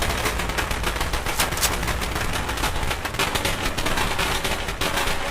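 Sustained automatic fire from an SG 552 assault rifle in a video game, a continuous loud, rapid crackle of shots lasting several seconds with no voice over it.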